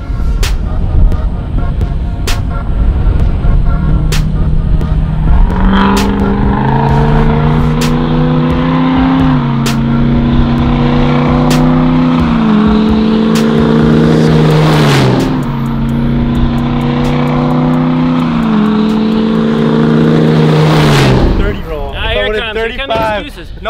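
6.0 Powerstroke diesel trucks drag racing, loud engines accelerating through several rising gear shifts with repeated sharp clicks, close and sustained, with talk over the top.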